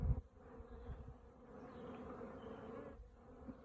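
Bees buzzing around a hive entrance, a steady close swarm hum with individual insects droning in and out, continuous and fairly quiet.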